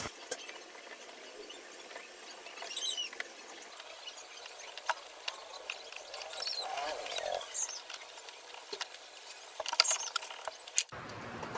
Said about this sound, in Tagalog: ngayon testing natin, tingnan natin kung okay na ba tong washing machine